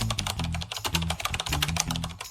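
A prompt is typed on a computer keyboard in steady, close key clacks with a quick, even rhythm, without any talking.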